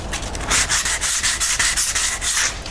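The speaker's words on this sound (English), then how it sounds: "I got a little bit of mud on the trims. Just want to sand that off" Sandpaper scrubs dried drywall joint compound off painted trim in quick, steady back-and-forth strokes, loud and close, a rhythmic rasping with no voices.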